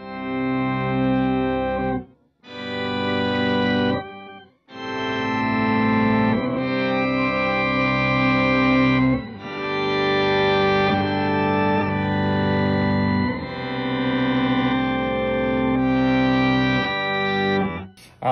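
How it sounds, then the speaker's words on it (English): Big organ-like swell from a Pog 2 octave pedal on a guitar pedalboard, thick sustained chords fading in and ringing long, several held chords in a row with brief gaps between them, loud and without talk. "It's a big organ swell sound."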